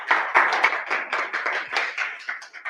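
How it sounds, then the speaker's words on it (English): A small tech meetup audience gives a quick round of applause. Distinct individual claps, fairly close and moderately loud, run irregularly for under three seconds. "Let's give Rachel a quick round of applause"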